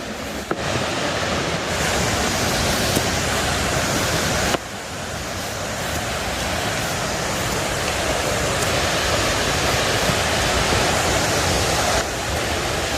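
Foster Falls in Tennessee roars as a constant dense wash of falling water, loud and steady throughout with no voices.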